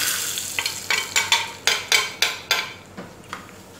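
Fenugreek and Kashmiri red chili powder sauté in a pan for a Kerala-style sambar, heard as a run of about ten rhythmic scraping stirs over a hissing sizzle, close and fading toward the end, without speech.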